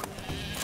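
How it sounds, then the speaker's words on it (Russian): A single sheep bleats briefly in The Witcher 3: Wild Hunt, a short wavering cry heard close and alone. "Не трогай овец, они ж чужие."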